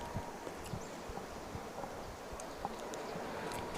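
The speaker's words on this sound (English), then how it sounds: "Yeah, that wind gust was strong." Strong gust of wind blowing across an outdoor croquet lawn, a steady broadband rush with faint rustling and mic buffeting, no talk.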